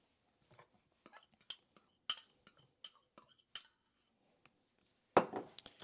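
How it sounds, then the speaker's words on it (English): A utensil stirs a butter, salt and flour mixture in a bowl for a gingersnap apple pie, giving a sparse series of close, sharp clinks and scrapes against the bowl, ending in a louder rough scrape. "I'm going to go ahead and give this a good stir up until we got a good consistency."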